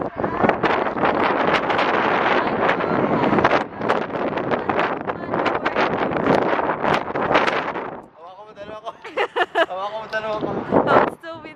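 Strong wind buffets the microphone on the bridge beside the Hoover Dam, a loud steady roar for most of the stretch that drops away near the end, where people talk close by.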